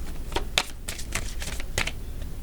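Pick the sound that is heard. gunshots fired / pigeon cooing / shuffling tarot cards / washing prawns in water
shuffling tarot cards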